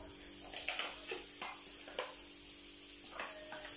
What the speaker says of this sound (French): Donc mes lardons sont sur le feu.